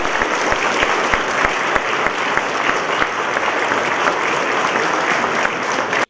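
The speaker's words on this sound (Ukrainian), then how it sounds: "Його зустрічали оплесками і стоячи" A hall audience applauds Petro Poroshenko, standing as they greet him, with a dense, loud, continuous wash of clapping that holds evenly throughout, sharp individual claps standing out from the mass.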